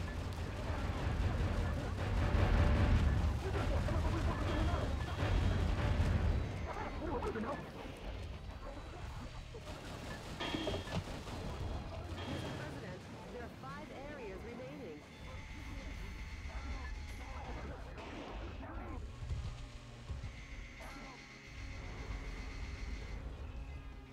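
Heavy gunfire and explosive blasts from Metal Wolf Chaos XD, a dense, loud barrage that roars through most of the stretch with heavier bursts early on, while someone talks over it.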